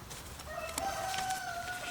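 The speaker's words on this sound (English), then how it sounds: "We still have those roosters" A rooster crows in a drawn-out call from a short distance, over a low, steady background hum.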